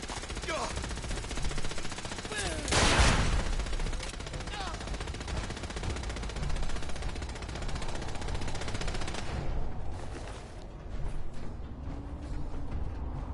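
Automatic gunfire from a firefight in the video game Fallout 4, including an enhanced Gauss rifle, sounds as dense rapid bursts with a loud volley near the start, then continues as steady background shooting.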